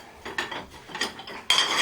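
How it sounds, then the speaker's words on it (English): A bowl and plates clink and scrape as they are set into a dishwasher rack, with a few light ceramic knocks and a louder clatter at the end. "if I was to put this bowl here with the plates"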